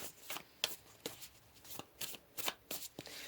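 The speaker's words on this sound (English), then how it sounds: "So let's pull a couple more cards for you." Tarot cards being shuffled in a run of crisp riffling bursts, sharp papery snaps repeating at an uneven pace, close and fairly quiet with no talking.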